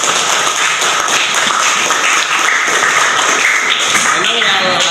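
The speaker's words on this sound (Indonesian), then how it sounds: "Iya, tepuk tangan." A classroom of students claps steadily and loudly throughout, a dense continuous patter of hands with voices mixed underneath.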